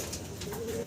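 A brief, soft coo from a fancy pigeon, a low rolling note that fades out at the end, quiet against faint background noise.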